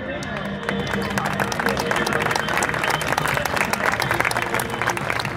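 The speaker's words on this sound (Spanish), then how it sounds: "Ahí está entonces, fuerte el aplauso." A crowd at a youth football tournament applauds the children's delegations, with dense, continuous clapping rising after a brief quiet start and a murmur of voices beneath it.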